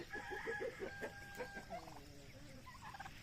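A turkey gobbles in rapid bursts, a rattling call repeated several times, close by with a faint outdoor hum beneath.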